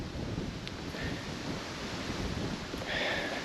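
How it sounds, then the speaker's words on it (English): Strong wind buffets the microphone outdoors at a logging site among brittle spruce trees, a steady loud broadband roar with gusts swelling near the end, no one talking. "it is really windy."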